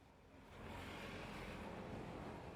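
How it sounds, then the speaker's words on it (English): Cars pass nearby in a noisy outdoor city setting, a steady broadband roar of traffic swelling after the first half second and holding loud throughout, with some wind buffeting on the microphone. "No, there's cars."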